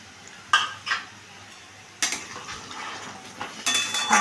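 A milky mixture for niramish dudh potol being stirred and fried in a pan, a few separate metal clanks of a spoon against the pan over a low sizzle, close by with no talk.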